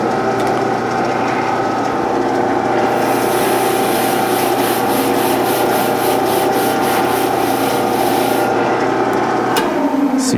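Metal bearing caps for a toolpost grinder being rubbed with an ultra fine Scotch-Brite pad, a loud, continuous scrubbing rasp with rhythmic back-and-forth strokes, close up and without any voices.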